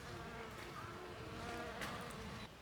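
Bumblebees buzz around flowers in a summer garden, a soft continuous hum close by under a broad outdoor background, with no one speaking.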